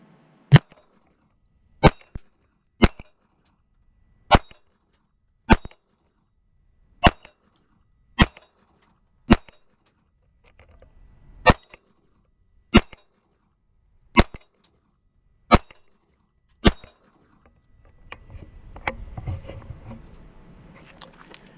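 Taurus TX22 Compact .22 pistol fired thirteen times in an uneven slow rhythm, each shot a sharp, bright crack in near silence, followed by a few seconds of rustling and handling noise.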